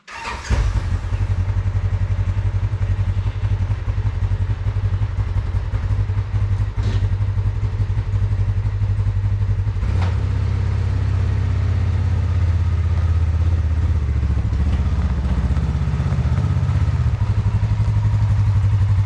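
An off-road vehicle fitted with upper doors idles and runs before a test drive, a loud, steady low engine rumble that continues throughout, with a few clatters and a slight rise in revs near the end.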